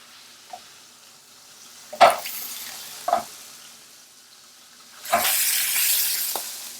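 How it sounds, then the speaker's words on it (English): Veal in a hot frying pan on the heat, with a few brief stirs and clatters followed by a louder burst of sizzling that tapers off, close up with no talk. "We need to leave the frying pan on the heat"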